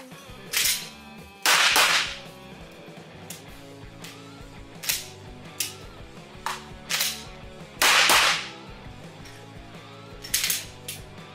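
Pistol malfunction drill: sharp metallic taps, clacks of a slide being racked and the tinkle of an ejected empty case, repeated in several short bursts with quiet gaps between, close and clear.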